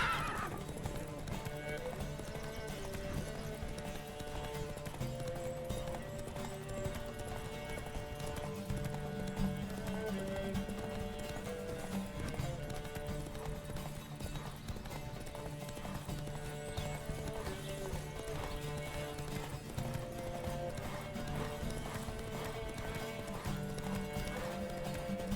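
In The Witcher 3, a horse's hooves clip-clop in a fast, steady gallop with repeated neighs and whinnies, set against game music throughout.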